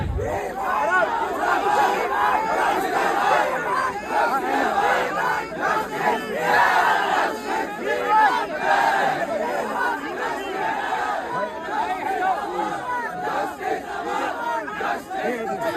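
A large protest crowd in Patna chants slogans in loud, rhythmic unison, a dense roar of many voices rising and falling continuously, close and sustained throughout.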